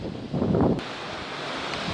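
Gusts of outdoor wind buffet the microphone in a loud, rumbling burst that peaks early, then settles into a steadier rushing noise with no talking.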